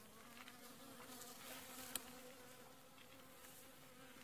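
Bees at an apiary feeding on angelica in the evening make a soft, continuous hum, faint and steady, with no talking.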